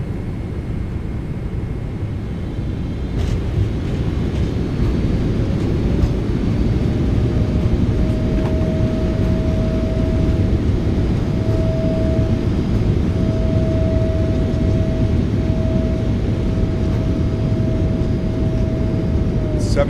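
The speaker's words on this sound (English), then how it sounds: "Reversers are out. Decelerating." In a flight simulator, the PMDG Boeing 777F's thrust reversers roar loudly and steadily as the freighter decelerates on landing, holding a sustained heavy rumble with a faint whine above it throughout.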